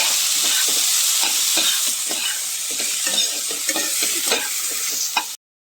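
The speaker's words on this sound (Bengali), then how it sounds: "এবার আমি সাবুটা একটু হালকা ফ্রাই করে নেব।" Soaked sago frying in ghee in a pan, a bright steady sizzle punctuated by regular stirring scrapes and taps, close up and alone, cutting off abruptly near the end.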